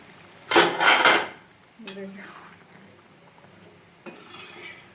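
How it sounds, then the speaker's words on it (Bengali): A metal lid comes off a pot of cooking vegetable masala dalia with a loud, close clatter lasting about a second, followed by a lighter clink and another brief metallic knock over a quiet background. "কিছুক্ষণ পর আমি ঢাকাটা খুলে নিচ্ছি।"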